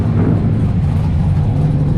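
Car engine at Road America roars loud and close in a steady, dense rumble as it accelerates, filling the whole stretch without any talking.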